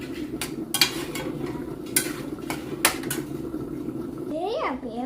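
A spoon stirs and mixes pulao with broad beans in a home kitchen pot, producing sharp metallic clinks and scrapes at an irregular pace over a low steady hum, while someone talks nearby.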